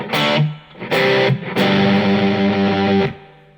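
A distorted electric guitar rings out through a Laney A3012 combo amplifier, playing a few loud chords and sustained notes that decay with a light reverb tail.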